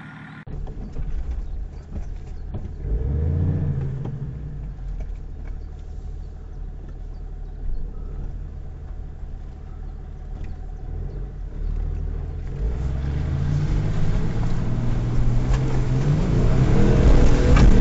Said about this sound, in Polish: Nie ma tu innego przejazdu, musiałbym tędy jechać, miękko tu jest.